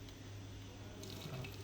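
Very hot water running steadily from a tap into a container to make roasted okra coffee, a soft continuous splashing hiss, close and fairly faint throughout.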